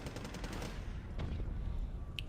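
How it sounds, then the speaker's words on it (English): Distant artillery and rapid gunfire rumble in the strategy video game Wargame Red Dragon, a dense crackling barrage with scattered sharper reports and a faint high blip near the end. "More artillery."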